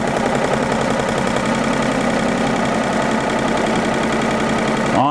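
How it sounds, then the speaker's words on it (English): An embroidery machine without thread sews a slow run stitch onto poster board, giving a steady, dense mechanical chatter of rapid needle strokes that stops at the very end. "just pressing and holding the start button, the machine will sew very slowly around"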